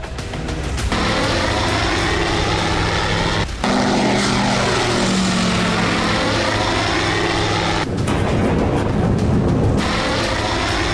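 A military drone flies overhead with a steady propeller drone, its pitch sliding as it passes, loud and continuous with a couple of abrupt cuts.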